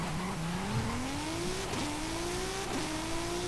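A 2003 BMW M5 accelerating in Forza Horizon 5, its engine note climbing steadily in pitch, briefly dipping at each gear change before rising again, loud and continuous with no talk.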